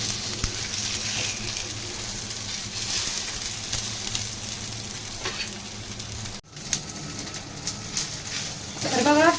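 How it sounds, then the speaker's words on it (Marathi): Tomatoes fry in oil in a pan with a steady, close sizzle and a few stirring sounds. A brief dropout comes near the end, and then a short bird coo or vocal sound. "तर बघा टमाटर मस्त भाजून चाललेत आता आपले. हे बघा तेलामध्ये मस्तपैकी भाजायला लागले"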